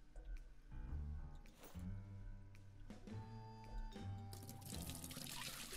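Water gushes from a hose into an aquarium in the video game Aquarist, a continuous close pour with splashing and dripping that swells louder toward the end.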